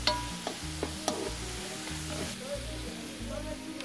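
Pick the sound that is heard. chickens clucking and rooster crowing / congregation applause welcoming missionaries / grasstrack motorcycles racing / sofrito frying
sofrito frying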